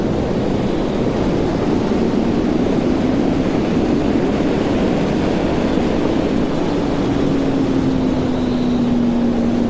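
A 2011 Honda CB1000R with the 2007 Fireblade engine, ridden in a single gear without shifting, gives a loud continuous engine drone mixed with heavy wind rush as the pitch rises slowly and steadily.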